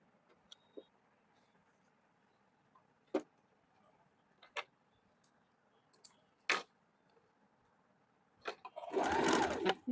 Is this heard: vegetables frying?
no